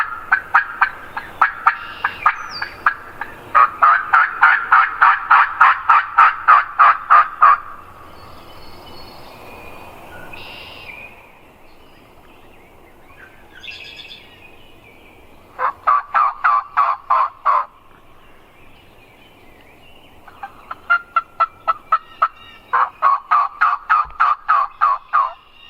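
Several wild turkeys gobble outdoors at a spring hunting camp, loud rattling bursts arriving in repeated volleys with quiet gaps of ambient birdsong between them, no voices present.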